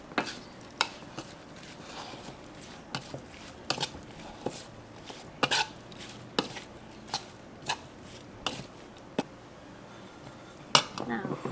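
A Thai larb tofu salad with cilantro and mint is tossed and mixed in a bowl, with soft scraping and intermittent sharp clinks of a utensil against the dish at an irregular rhythm, close and fairly quiet.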